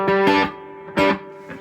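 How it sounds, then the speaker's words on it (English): A Cornell Romany 12 guitar amp with its reverb at setting 2 rings out a few strummed guitar chords, each followed by a lush, sustained reverb tail, with no talking. "It's very powerful reverb."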